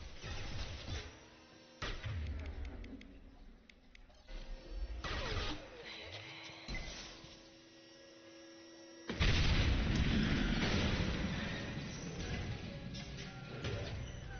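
Heavy booms and crashes from tanks blowing up during combat in Mass Effect 2, with loud bursts around two, five and nine seconds amid steady rumbling game noise.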